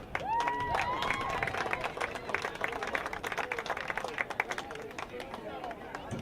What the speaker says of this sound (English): Please give a round of applause for Garrett Huey.